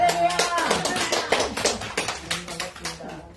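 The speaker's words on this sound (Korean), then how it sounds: "우리 환영의 박수 좀 해주세요." A small church congregation claps to welcome a visiting pastor, producing sparse, uneven hand claps close by with scattered voices speaking among them.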